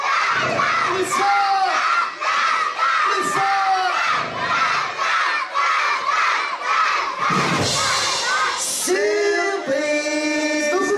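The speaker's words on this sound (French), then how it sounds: "On va crier son nom super fort et plein de fois dessus." A large crowd of children shouts a name loudly several times at a rock concert, in repeated bursts of high, ringing voices separated by brief lulls, close and loud.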